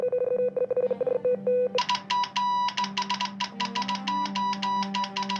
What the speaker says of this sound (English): which sends messages as dots and dashes, a winking radio wave encodes information into on and off